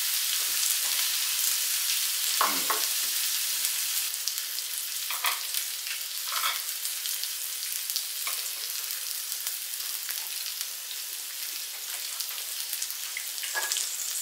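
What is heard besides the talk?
beef sirloin steak with Worcestershire and Montreal steak seasoning frying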